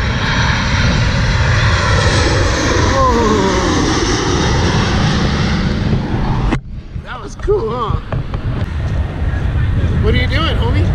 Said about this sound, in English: You're looking at airplanes, huh?